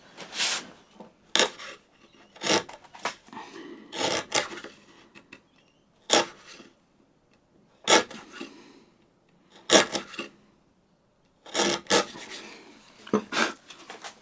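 A wood chisel pares out a tapered sliding dovetail, giving bursts of close, dry rasping scrapes separated by short pauses, each stroke sharp and bright, with no voices.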